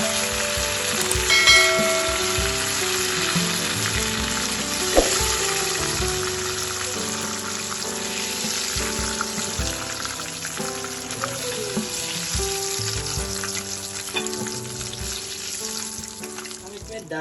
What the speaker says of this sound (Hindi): चारों तरफ से घुमा के अच्छे से पका लें।